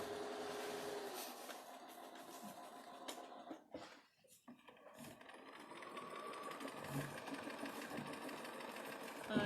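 Sewing machine stitching quilt pieces together along a seam, a steady continuous mechanical whir that briefly pauses midway before resuming, close and fairly quiet.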